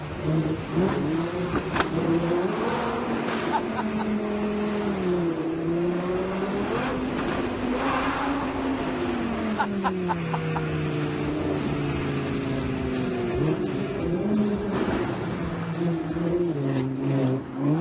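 An Audi R8 V10 Plus revs inside a tunnel with the windows open, its engine note climbing and dropping in repeated loud surges and echoing sharply off the walls.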